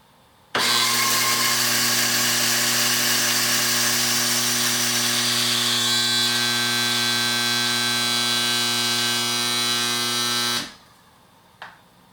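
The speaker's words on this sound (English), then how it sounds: "So I'm going to grind 2 more times," Electric coffee grinder grinding a coffee blend, a loud steady whining buzz with a strong hum that starts abruptly, runs about ten seconds without letting up, then cuts off and winds down.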